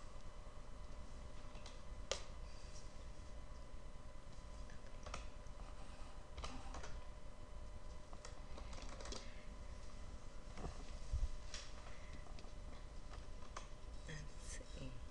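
Keys tapped on a computer keyboard as medical reaction terms are entered into practice-management software, soft irregular clicks in short bursts at low level over a faint steady hum.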